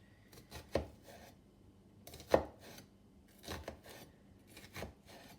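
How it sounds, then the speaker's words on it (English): A knife slicing through an onion on a board, making repeated crisp cuts toward the root end; sharp close chops come in irregular groups against a quiet background, with no speech. "we're going to take our onion and we're going to cut again, leaving a bit at the root"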